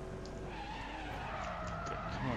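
A car in the Need For Speed World racing game slides and skids with a continuous, wavering tire squeal over engine drone, loud and close, with no talk.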